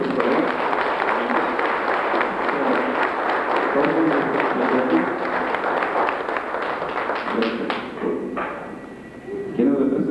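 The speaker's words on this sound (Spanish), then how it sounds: "Un aplauso fuerte, por favor." A crowd applauds loudly at a church celebration for a baptism and first communions, the dense clapping running steadily before thinning toward the end, with a voice speaking over it.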